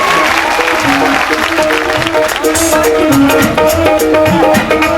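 Loud, dense clapping from an audience at a religious fair, sustained for several seconds with background music tones mixed in.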